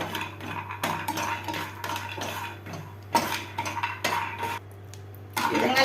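Almonds dry roasting in a pan on a stove over a slow flame, with a steady light rattle and clatter as the nuts are stirred and tossed against the metal, close and fairly quiet.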